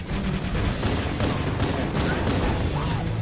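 An Elite firing a needler in Halo: Combat Evolved: a dense, continuous barrage of rapid shots and crackling impacts amid noisy combat, fairly loud and sustained.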